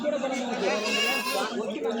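Several goats bleat in overlapping, wavering cries at Kadiri's busy sheep and goat market, loud and close, with crowd chatter underneath.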